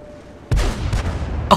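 Tank cannon fire in World of Tanks: a heavy boom hits at about half a second and rolls on with a long decaying rumble, followed by a sharper, brighter second shot near the end.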